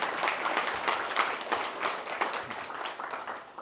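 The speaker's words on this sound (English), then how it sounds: "Yeah, you can clap for that." A live audience at a business talk breaks into moderate applause, a steady patter of many hands clapping at middle distance for a few seconds.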